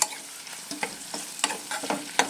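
Raw prawns being stirred into browned onions in a hot pan, giving a soft frying sizzle broken by a series of sharp scraping stirs, fairly close and quiet, with no talking.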